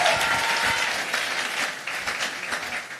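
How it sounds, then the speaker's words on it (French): A church congregation breaks into sustained applause and cheering, a dense, steady wash of many hands clapping close by without pause. "Acclamez le Seigneur Jésus-Christ pour cela"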